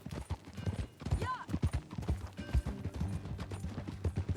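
Horse hooves clip-clop in a steady trotting rhythm in a video game, fairly close, with a few other faint sounds around them.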